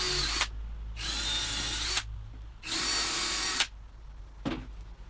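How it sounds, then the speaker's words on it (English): A power drill with a pilot bit bores into desk wood in three loud whining bursts separated by short pauses, followed by a brief final blip, close up with no talking. "I'm going to take my drill with the pilot bit in it and go in about an"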